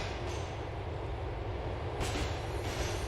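A subway train runs through a tunnel in the Liberty City video game, a steady, loud rumbling roar of wheels on track that swells slightly near the end.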